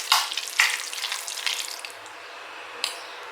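Scrambled eggs with salmon, cheese, onion and pepper sizzling in a frying pan, with a few sharp scraping strokes of a fork near the start and end over a soft steady fry, close and with no talk.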